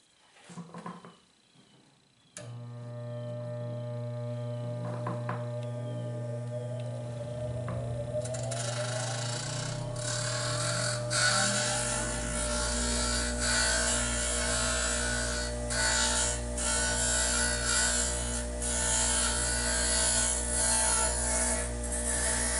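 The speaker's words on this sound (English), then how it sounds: "I'm going to do a little more work here on this grinder and then take it and put it on the sander." A grinder shapes pecan wood knife scales. The machine spins up with a rising motor whine into a steady loud hum, and abrasive scraping from the wood runs throughout.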